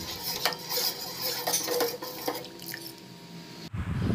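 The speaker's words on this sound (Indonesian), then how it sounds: "Dan diaduk-aduk hingga tercampur merata." A spoon stirring mango corn cream soup in a pot, repeated close scraping and clinking strokes in an irregular rhythm over a faint simmer, ending in a short muffled thump.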